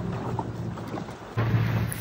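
A yacht club boat's engine at Jubail, Saudi Arabia, rumbles steadily as the craft gets underway, then jumps to a louder, fuller drone midway. Wind buffets the microphone throughout.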